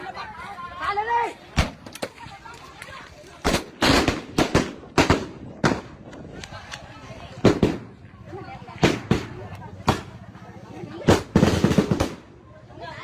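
Firecrackers and explosive shells burst in a series of sharp, loud bangs during a land dispute clash in Nghe An, Vietnam, some in quick clusters, with shouting voices and crowd noise between them.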